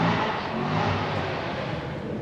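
Close, continuous roar of a car engine revving at a tattoo art show, a dense, steady broadband rush that holds without a break and with no talk.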